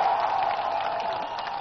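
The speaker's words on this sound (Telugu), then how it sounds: "అవును అంటే గట్టిగా చప్పట్లు కొట్టండి." A crowd at a TDP election road show in Kukatpally claps loudly and steadily, a dense wash of applause with faint cheering that carries on without a break.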